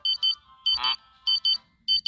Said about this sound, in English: That's my alarm to let me know when it's time for another mirror check.